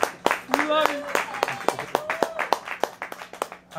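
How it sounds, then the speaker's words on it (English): A small audience at an open-mic comedy show at Ole Sal's claps for a host who set up the equipment: a steady patter of close hand claps lasting a few seconds, with a voice talking over it. "please give a round of applause to Paige for setting us all up"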